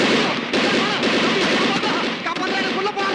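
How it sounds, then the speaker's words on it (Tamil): Gunshots in a dramatic scene: loud, continuous, dense rattling bursts of gunfire and booms, with no quiet gaps. "துப்பாக்கி."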